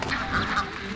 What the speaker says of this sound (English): they use ducks instead of pesticides to work in vineyards